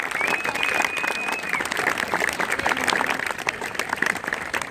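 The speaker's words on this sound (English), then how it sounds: "Round of applause to all the family members" Crowd at an Air Force graduation ceremony gives a long, even round of applause for the families of the graduates, thick clapping from many hands at moderate distance with some murmuring underneath.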